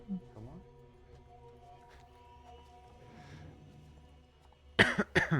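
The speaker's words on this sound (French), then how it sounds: "Je tousse." A couple of sharp, close coughs burst out at the end after a stretch of low background hum and faint murmuring during play of the game Alien Isolation.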